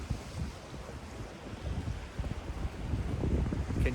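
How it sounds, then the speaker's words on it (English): Ocean waves wash in with a continuous low rumble and hiss, growing louder toward the end, with wind buffeting the microphone. "the silence between the sound of those waves coming in"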